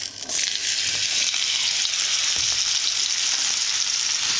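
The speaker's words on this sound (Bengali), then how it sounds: "ওলকপিগুলো এইভাবে কেটে নিয়েছি, আপনারা এইভাবে কেটে নেওয়ার পরে ভেজে নেব ভালো করে।" Cut kohlrabi pieces fry in a pan with a loud, steady sizzle of hot oil that fills the whole stretch, with no voices.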